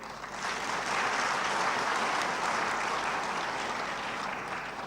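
Sustained applause from a large audience at a Vesak celebration ceremony of international Buddhist universities in Bangkok, a dense steady wash of clapping that swells in and holds at full strength throughout.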